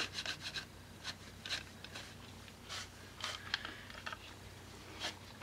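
A damp cloth rubs black paint off a steampunk-style altered tin, making soft, close scrubbing strokes in short irregular bursts over a quiet background.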